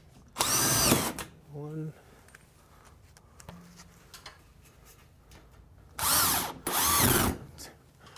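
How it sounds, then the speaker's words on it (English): Power drill driving drywall screws into a ceiling, with several loud high-pitched whirring bursts of roughly half a second to a second each, separated by quieter stretches with handling sounds and a brief spoken word. "we just put it up with drywall screws"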